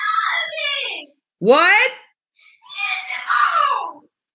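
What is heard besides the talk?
person screaming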